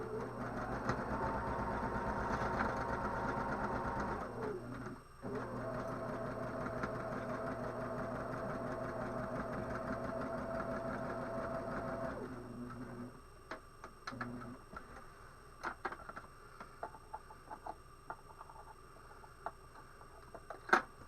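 A sewing machine back stitches the ends of a seam on an apron, running in a fast steady whir for about twelve seconds, then falling quiet into scattered clicks and handling noise.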